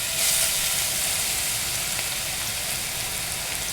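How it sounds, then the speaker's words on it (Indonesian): Garlic sizzles in hot oil in a pan for mapo tofu, a dense, steady crackling hiss that holds loud and even throughout with no speech. "Sekarang kita tumis bawang putihnya."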